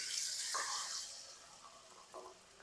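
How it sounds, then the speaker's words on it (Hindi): Water is poured into a pan of fried spices, producing a bright hissing sizzle and splashing, loud at first and then settling into softer bubbling, with two short pours close up. "इसके अंदर 1 कप ना पानी डाल देंगे"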